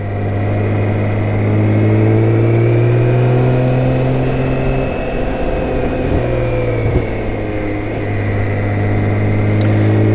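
A BMW K1600GT motorcycle's six-cylinder engine drones steadily while riding through a curve, a loud, sustained hum with gentle pitch shifts and a brief dip as the throttle eases, heard from the rider's position with wind noise.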